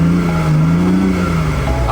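A turbocharged 1.5-liter three-cylinder engine in a BMW i8 runs steadily at close range, giving a continuous low drone with a slight rise and fall in pitch.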